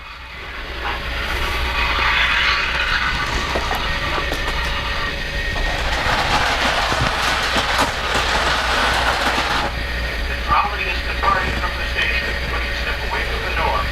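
A Polar Express model train rumbles steadily along its track with a continuous mechanical whir and faint clicking, close by and fairly loud throughout.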